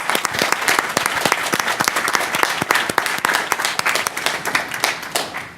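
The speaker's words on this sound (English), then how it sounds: "Can you give me a round of applause?" An audience gives a round of applause, many hands clapping loudly and steadily in a dense, continuous burst that tapers slightly at the end.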